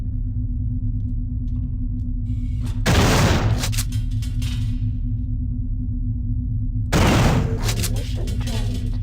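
A turret in the video game System Shock 2 fires two separate loud bursts of gunfire over a constant low mechanical hum.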